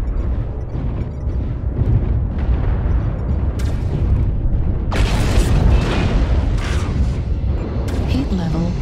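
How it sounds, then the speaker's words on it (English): Loud, rumbling explosions from an airstrike in the mech combat game MechWarrior Online, with a heavy burst of blasts in the second half over continuous battle noise and a synthetic announcer voice. "Airstrike activated."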